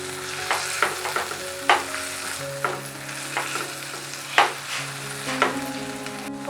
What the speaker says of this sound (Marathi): यामध्ये मी कॉर्नफ्लोअरची स्लरी घालत आहे।